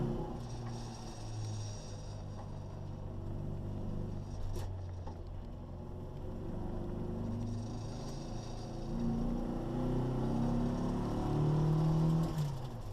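Restored 1963 Austin Mini Cooper former race car being driven, its small engine droning steadily and rising in revs toward the end, heard from inside the car.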